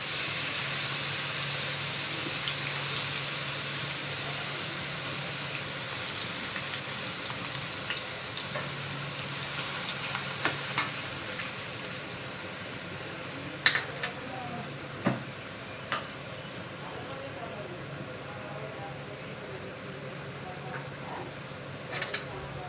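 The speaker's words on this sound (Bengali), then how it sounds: "তেলটা গরম হয়ে যাওয়ার পর আমি কুচিয়ে রাখা লাউটা আমরা ছেড়ে দিলাম কড়াইয়ে।" Chopped bottle gourd frying in hot oil in a wok, a continuous bright hissing sizzle that stays even throughout, broken by a few sharp clinks of a utensil against the pan.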